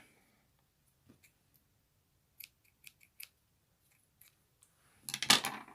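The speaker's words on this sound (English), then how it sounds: "we're gonna cut the yarn" Scissors snip crochet yarn in a few sharp, isolated clicks, close-up and quiet, ending in a louder cluster of cutting and handling sounds.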